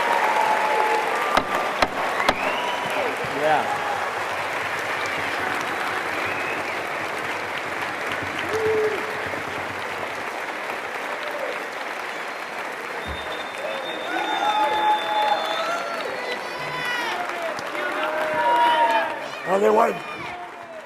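An audience at a talk about the SF Cacophony Society claps and cheers in sustained applause that swells toward the end, with scattered voices and shouts throughout.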